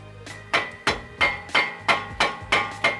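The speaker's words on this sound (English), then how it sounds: "As I was hammering with the rubber mallet to try and get it in" A rubber mallet strikes a new CV axle being seated into a car, seven evenly spaced, sharp thuds in quick succession, close and loud with no talking.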